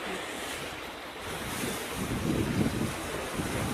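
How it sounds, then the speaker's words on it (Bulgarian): Strong wind gusts across the microphone at the seaside, with a steady rushing roar and lapping surf beneath, swelling louder toward the end and heard alone with no talk. "Няма да те чуят духа вятър."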